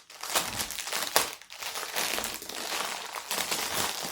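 Continuous crinkling and crumpling of plastic packaging from a Diamond Art Club diamond painting kit, close and fairly loud, with bursts of rustling as bags of drills are handled.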